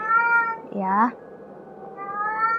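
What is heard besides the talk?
male cat meowing loudly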